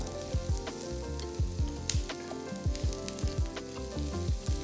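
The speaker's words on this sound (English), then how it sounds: "Saute everything together for about 5 minutes until the onions become soft and turn into a light golden color." Onion, garlic, ginger, cashews and chilies sauté in a pan for mutton korma, giving a steady sizzle broken by repeated scraping stirs and soft knocks of a spoon against the pan.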